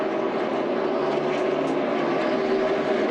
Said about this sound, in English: Mike, you can hear his engine in his pit box.